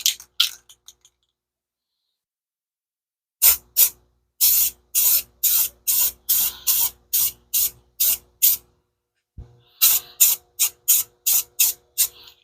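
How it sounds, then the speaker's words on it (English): Spray paint cans being shaken and sprayed onto a rifle, with short rattling bursts and repeated sharp hissing sprays in quick succession, close and loud, after a quiet stretch. "You want to make sure you shake your paints well."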